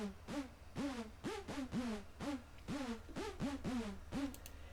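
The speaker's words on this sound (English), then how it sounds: "Basically it's the lead hoover." Lead hoover synth from Hammer in a Gqom beat, a repeating swooping, pitch-bending stab that rises and falls in a steady, syncopated rhythm, loud and upfront over a low pulsing bass.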